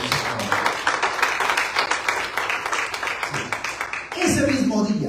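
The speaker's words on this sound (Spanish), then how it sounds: "Denle palmas fuerte." A church congregation at a water baptism service claps hands loudly and fast in a dense, continuous patter, with voices mixed in and a burst of louder noise near the end.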